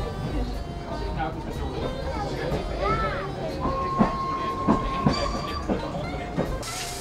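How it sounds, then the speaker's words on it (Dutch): A steam train runs on the Goes to Hoedekenskerke line with a steady rolling rumble, clicking wheels, a squeal and a hiss, and a tooting whistle held partway through. A person talks over it throughout. "Bent u net op weg, dan stopt de trein alweer."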